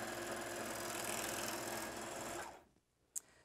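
A Juki MO-1000 serger stitching regular quilting cotton whirs steadily and fast for a couple of seconds, then stops, leaving near quiet and one small sharp click.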